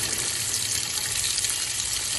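Water runs steadily from a tap into a corner where it pools, a continuous close, even hiss and splash with no voices.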